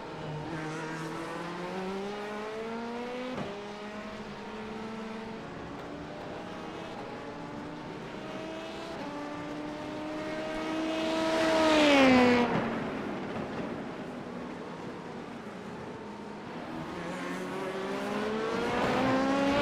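LMP2 prototype race car engines in an iRacing IMSA race, a steady multi-engine drone with rising and falling gear-change pitches and a louder pass that peaks and fades midway, with no speech.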